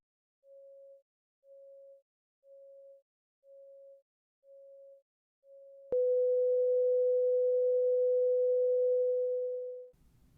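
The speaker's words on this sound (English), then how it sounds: "And now let's use a 500 Hertz background noise." A pure test tone of about 550 Hz beeps six times in an even rhythm. Then a steady 500 Hz masking noise starts and holds for about four seconds, swallowing the tone before it fades.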